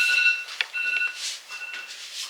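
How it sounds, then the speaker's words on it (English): A kitchen timer beeping in a series of short, high electronic tones repeating irregularly, close and fairly clear with no talk over it. "My timer is off."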